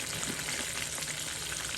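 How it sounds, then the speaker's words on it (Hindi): Oil sizzles and crackles steadily as chicken sticks fry in a pan, a dense continuous hiss close to the microphone. "ये पीछे से शोर आ रहा होगा इसके फ्राई होने का"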